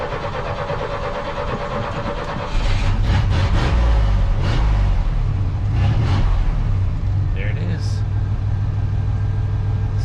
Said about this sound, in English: It struggled to start.